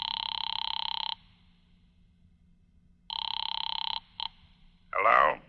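An old telephone rings from a call placed at a phone booth, sounding two loud bursts of electric bell trill with a pause between them, followed by a short clipped ring and a voice answering.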